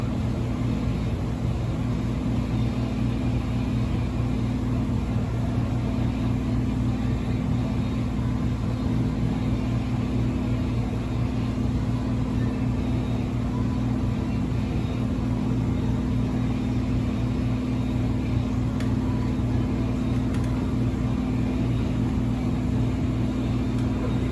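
A race car engine runs on a dyno, a constant loud droning hum with a steady low rumble that holds at one level throughout, with no talk.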